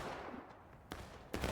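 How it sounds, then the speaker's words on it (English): Two sharp musket reports from the 42nd Pennsylvania in a Civil War style game, spaced apart over a quiet, faint battlefield background, the second shot slightly heavier. "42nd Pennsylvania gets some shots off"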